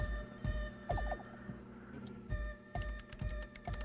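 Keys clatter on a computer keyboard in an office scene from the video game Disco Elysium, bursts of quick taps at moderate loudness over a low electrical hum, with no one speaking.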